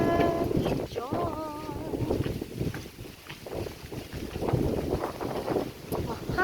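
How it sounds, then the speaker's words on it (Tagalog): Wind gusts by a wide river, buffeting the microphone in low, uneven rumbles that swell and fade, with voices talking over it throughout. "Hangin talaga dito."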